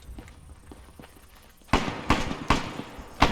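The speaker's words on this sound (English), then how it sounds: "I am hearing gunfire northeast" Several sharp Arma 3 gunshot cracks ring out at a moderate distance, evenly spaced, after a quiet stretch of faint tapping.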